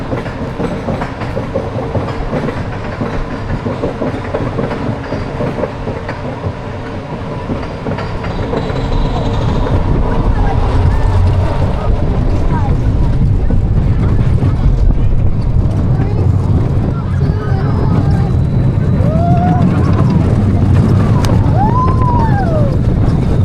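Ride aboard the Canyon Blaster, an Arrow mine train roller coaster at Great Escape, with a loud continuous rumble and clatter of the cars on track that swells partway through, and people's voices mixed in.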